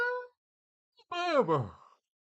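A single voiced yawn, rising then drawing out into a long breathy exhale, preceded by a brief vocal sound, close and fairly loud.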